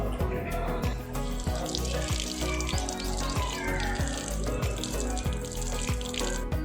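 Water poured from a clay pot splashes and gurgles continuously with quick irregular drips and trickles, fairly close and steady, with no voices heard.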